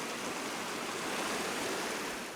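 A waterfall flows steadily along a hiking trail, a broad continuous rushing hiss of falling water, moderately loud and unbroken, with no talk.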